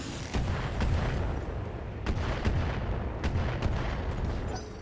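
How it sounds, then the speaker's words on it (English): Mortar fire in the BattleTech video game sounds as a series of heavy booming impacts that land in quick succession over a rumbling battle backdrop. "Our mortar."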